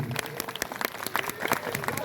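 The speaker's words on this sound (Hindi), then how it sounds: "जोरदार तालियों से उनका स्वागत कीजिए।" An audience at a temple Shiva Mahapuran religious gathering bursts into enthusiastic applause to welcome a family. Dense, irregular hand claps sound throughout, moderately distant, with a voice over a loudspeaker mixed in.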